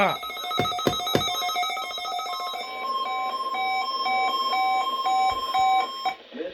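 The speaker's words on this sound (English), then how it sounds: "This ends the test of the National Weather Service weather radio warning alarm." A National Weather Service weather radio warning alarm test tone plays as a loud, steady electronic tone with sharp stepped pitch changes, preceded by a few clicks and ending abruptly.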